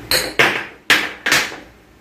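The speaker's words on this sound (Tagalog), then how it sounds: "konting pukpok na lang yan, ayos na yan" Four sharp metallic hammer taps seat a new transfer case oil seal, close and loud, each strike ringing briefly before the next in an uneven rhythm.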